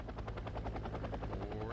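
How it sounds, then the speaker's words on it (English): A military helicopter carrying recon infantry in the video game Wargame: AirLand Battle gives a steady, quiet rotor chop. The beats are rapid and regular over a low engine hum, and no one speaks. "He's got a helicopter with some recon infantry in it."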